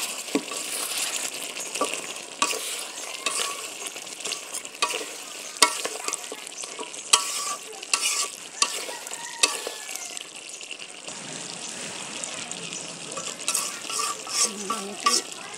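Beef curry frying in a pot is stirred with a utensil: continuous close sizzling with repeated scraping clicks and knocks for several seconds, then the stirring stops and the sizzle quiets to a softer bubbling. No talking.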